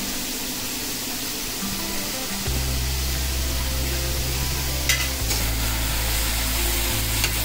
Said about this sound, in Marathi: आता आपण कांदा थोडं तेल घातलंय, तेलामध्ये भाजून घेऊया।